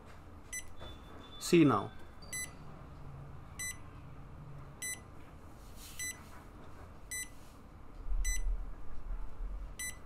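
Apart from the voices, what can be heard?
buzzer beeping when an eye blink is detected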